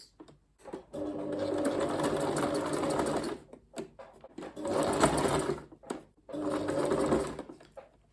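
A sewing machine stitches folded fabric in three steady runs of fast motor whir and needle chatter, with brief pauses and handling between them, close and loud.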